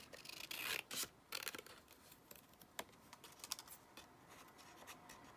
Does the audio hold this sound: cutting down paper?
yes